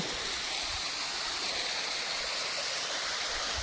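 Steady, dense roar of Byrappa Falls at Kuruvinakoppa, water dropping from a hill, continuous broadband rushing water with no pauses.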